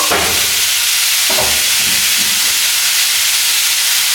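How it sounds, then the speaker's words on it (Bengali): Potatoes frying in hot oil in a home kitchen, giving a loud, steady, close hiss that runs unbroken throughout, with faint clatter beneath it and no talking. "এবার আমি আলুগুলো ফ্রাই করে নেব"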